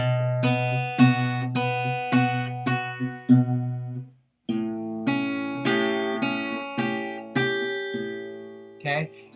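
Fingerstyle blues chord line on guitar, a series of clear plucked chords with ringing sustain, played in two short phrases separated by a brief pause, close and alone.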